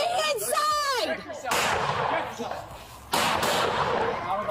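A gunman firing an AK-style rifle from a house, heavy gunshot bursts echoing outdoors amid shouting voices, loud sustained crackling volleys filling most of the moment.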